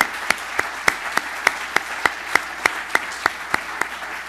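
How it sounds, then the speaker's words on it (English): Applause at an outdoor groundbreaking ceremony for an EV battery parts factory, heard as a sparse, fairly quiet clapping texture over which sharp, evenly spaced claps stand out in a regular rhythm. "I think everyone deserves a big round of applause for that."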